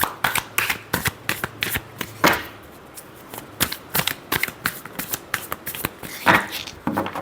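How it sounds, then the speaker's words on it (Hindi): Tarot cards being shuffled by hand in quick rapid riffles and taps, close and crisp, in irregular bursts with brief pauses. "last shuffle"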